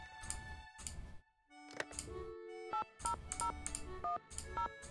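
Keypad tones sound as a phone number is dialed in the Nancy Drew Phantom of Venice video game, a quick series of distinct beeps separated by short gaps, clear and close.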